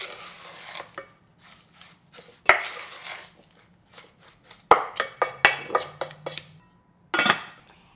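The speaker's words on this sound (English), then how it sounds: "Mix this." Beet pulp and a pinch of salt mixed in a pan, with irregular spoon scrapes, taps and clinks against the metal, some sharp knocks, close and intermittent with pauses and no speech.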